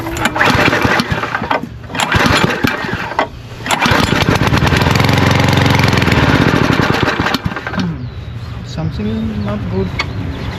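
A small petrol engine is started after its carburetor was repaired for hidden water. It sputters and catches, runs loudly and roughly for a few seconds, then falters and drops away, with faint voices nearby.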